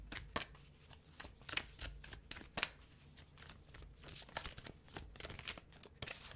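Tarot cards shuffled by hand at close range, a quiet, continuous run of rapid papery riffles and slaps with irregular rhythm and no talking.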